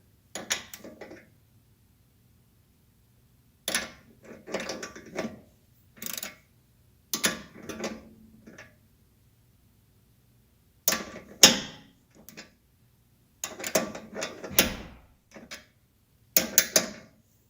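A wrench works a tie rod end stud on a Porsche 944, producing short bursts of clicking and ratcheting separated by silent pauses, close and moderately loud.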